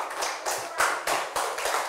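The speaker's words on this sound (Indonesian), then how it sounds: "tepuk tangan untuk kelompok 2" A classroom of students claps for a student group, giving a brief burst of light, rhythmic hand claps at close range.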